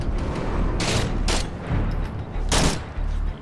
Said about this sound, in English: Artillery's coming in.